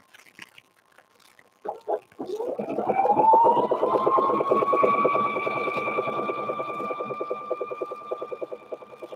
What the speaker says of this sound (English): you can hear the sound of your sewing machine